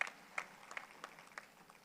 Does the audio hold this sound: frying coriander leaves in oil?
no